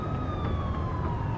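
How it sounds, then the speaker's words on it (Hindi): A police car siren wails steadily over a low rumble, as in a tense chase scene in a dramatized audio story. "राणा, 2 पुलिस की गाड़ियां हमारे पीछे हैं"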